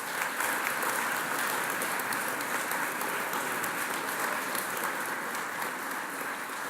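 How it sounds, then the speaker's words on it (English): Audience applause at a university graduation ceremony in Chelmsford, dense and steady from a large crowd filling the hall, sustained at an even level throughout without fading. "turn around and applaud the friends and families who have supported you throughout your degree studies"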